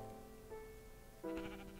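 Sheep bleating in the Minecraft video game, a short tonal bleat midway followed by a louder, nearer bleat at the end, with no talk over it.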